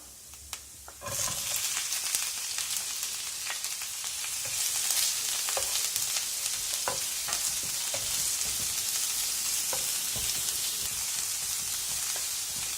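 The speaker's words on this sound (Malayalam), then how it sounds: "നമുക്ക് ഹൈ ഫ്ലെയിമിൽ വെച്ചിട്ട് സവാള നന്നായിട്ട് സോട്ട് ചെയ്തെടുക്കാം" Sliced onions hit hot oil with ginger over a high flame for tomato chutney, jumping from a light sizzle to a loud, dense, steady frying hiss with scattered stirring taps throughout.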